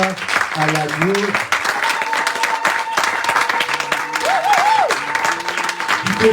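A church congregation at a French-language worship service bursts into sustained applause and cheering, a dense crowd roar under tonal singing or instrument notes, loud and continuous throughout.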